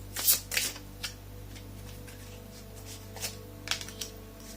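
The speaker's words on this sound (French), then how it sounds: "je vais encore tirer quelques cartes pour avoir des informations supplémentaires" Tarot cards being shuffled and drawn, a couple of crisp riffling bursts at the start followed by scattered softer card slaps and flicks over a low hum, no voices.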